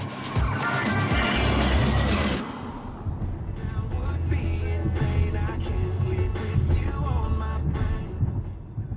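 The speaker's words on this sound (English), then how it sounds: "the good news, no, great news, is that the BMW 7 Series drives very well too" A BMW 7 Series saloon drives along a road, a steady low engine and tyre rumble with a louder surge in the first couple of seconds, then a constant moderate cruising hum.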